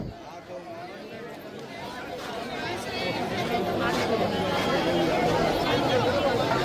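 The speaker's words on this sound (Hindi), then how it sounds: "ये देखिए कितनी ज़्यादा भीड़ है।" A large crowd of devotees at Bageshwar Dham fills the air with dense, swelling chatter and babble that grows louder, with a nearby voice speaking over the hubbub.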